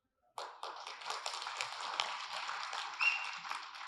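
An audience bursts into dense, sustained applause at the Harikatha film pre-release event, starting abruptly and holding steady for several seconds, with a slight swell near the end and no voices over it.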